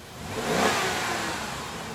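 A car engine revs up, rising to a brief peak and then holding a strong steady drone, close by; the engine has a noise coming from the piston.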